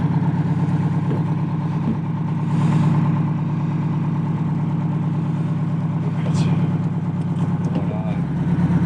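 A small petrol water pump pumping out water runs steadily and loudly throughout, a constant droning hum with no pauses.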